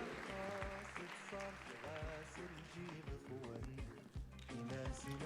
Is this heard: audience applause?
yes